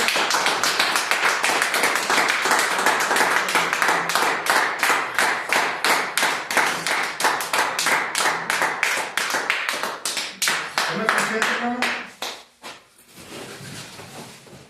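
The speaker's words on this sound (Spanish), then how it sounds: "Denle un aplauso al Señor." Loud, dense applause from a church congregation, steady clapping that tapers off and fades near the end, with a few voices underneath.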